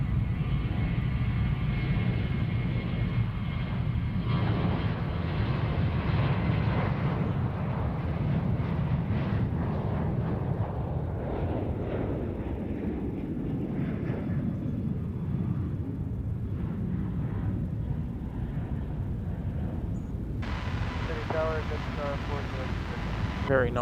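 Jet airliners on runway 34 right at Sydney Airport, heard from a beach on the airport's eastern side, a broad loud roar that swells and slowly fades with wind buffeting the microphone, a voice talking over it.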